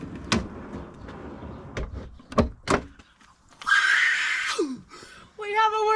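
A drawer built into a car camping setup in a Kia Sportage slides in with a short scraping rush after a few knocks and thuds, followed by a brief squeak and light rattles, while people talk nearby.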